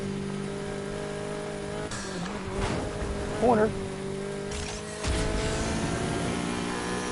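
Racing car engines in a PS4 driving game hum steadily, with a brief revving surge near the middle and a louder stretch toward the end, while someone talks over them.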